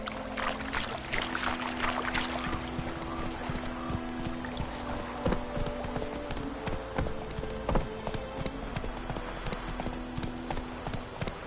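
Geralt's horse Roach in the video game Witcher 3 Wild Hunt, hooves clopping in a steady, continuous rhythm throughout at moderate loudness, with no talking.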